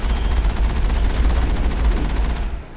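Rapid automatic gunfire in the video game Mass Effect pounds out loud and close in an unbroken, evenly spaced stream of shots before cutting off at the end.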